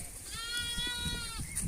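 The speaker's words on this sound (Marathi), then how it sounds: "बघा अशा मेंढ्या" A sheep grazing in a harvested onion field lets out one clear, wavering bleat lasting about a second, close by over soft outdoor ambience.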